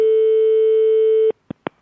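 A steady telephone tone holds for over a second, then cuts off and is followed by a few short clicks and beeps of a call connecting, clear and close, with no voices.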